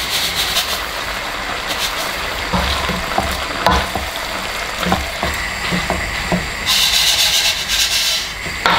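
Sugar being stirred into translucent onions cooking in a pan, with repeated scraping and rubbing strokes of a utensil over a steady sizzle, close and fairly loud, rhythmic and uneven.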